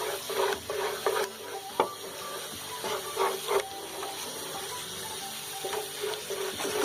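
A spoon stirs milk and food colouring into halwa dough in a bowl, giving irregular wet scraping and squishing strokes at close range with a few sharper clicks.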